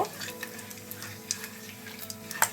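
Cinnamon, cardamom and whole cumin seeds fry in hot oil as a tempering for fish egg curry, producing a soft, steady sizzle with scattered small ticks and pops and no talking.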